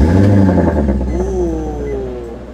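Car engine revving hard with a deep exhaust burble that falls away as the revs drop, loud and close, with no talk over it.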